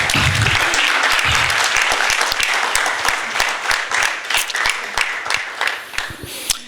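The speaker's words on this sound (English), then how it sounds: "Shall we clap our hands?" A church congregation claps hands during a sermon, loud and close. Dense applause settles into a more regular, rhythmic clapping pattern toward the end.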